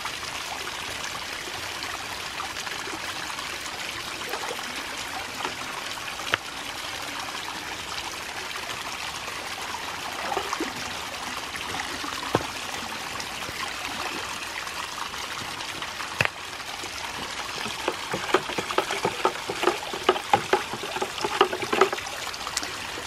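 Water and silt drain from a bucket through its opened drain plug in an off-grid water tower setup. The outflow is a steady, fairly quiet rushing trickle that continues throughout, with occasional splashes and knocks growing busier near the end.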